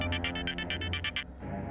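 An indoor telephone gives a quick burst of rapid electronic trilling rings, about eight pulses in just over a second, then cuts off; faint and alone.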